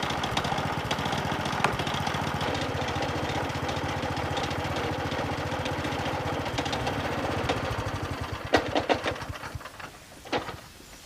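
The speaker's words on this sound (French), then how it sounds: "si c'est de l'essence qu'on a mis dedans, la tondeuse elle va pas s'arrêter." A petrol lawn mower engine runs steadily for most of the time, loud and close with a constant throbbing rumble, before a few sharper knocks and clatters near the end as the sound thins out.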